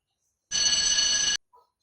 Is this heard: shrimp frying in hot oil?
no